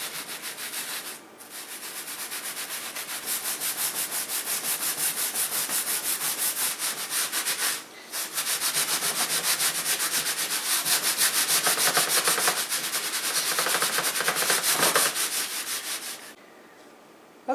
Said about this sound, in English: I'm going to take this old grody sponge and kind of start scrubbing